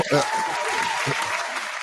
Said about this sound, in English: Let me give you applause for that